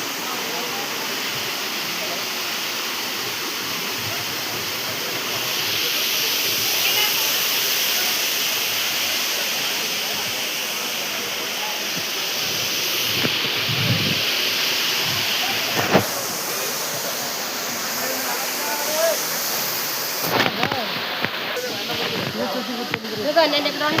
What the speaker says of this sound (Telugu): ఇది ఒక వాటర్ ఫాల్ లాంటిది